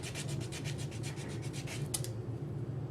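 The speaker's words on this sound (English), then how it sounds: "sand off the hearts" Sandpaper rubs across the surface of a UV resin ink pen in quick, even back-and-forth strokes, a close raspy scratching rhythm with no talking.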